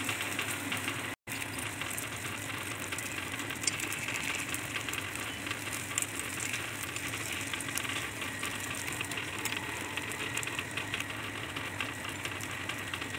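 Egg paniyaram sizzles in a pan after being flipped, giving a steady, faint, continuous frying hiss with a brief dropout near the start and no talking.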